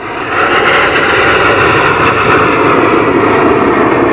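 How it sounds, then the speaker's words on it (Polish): A fixed-wing aircraft passes overhead during an aero club's 40th anniversary airshow in Mielec, giving a steady, loud engine roar that fills the whole stretch without a break. "Czarna sylwetka tego przepięknego samolotu na tle błękitnego nieba."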